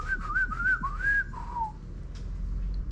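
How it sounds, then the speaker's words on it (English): A pet bird in a car workshop whistles a run of clear, rising and falling notes, then a longer sliding call that trails off, close and fairly loud over a low background hum. "he's got the most beautiful whistle and call little songs that he's singing"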